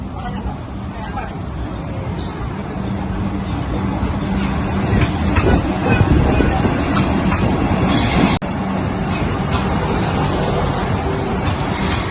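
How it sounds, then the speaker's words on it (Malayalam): A train arriving at Kozhikode station rumbles and clatters nearby, louder in the middle, with brakes or wheels squealing briefly and crowd chatter underneath. "ട്രെയിൻ ഇതാ ദൂരേന്ന് വരുന്നത് നിങ്ങൾ കാണുന്നുണ്ടാവോ"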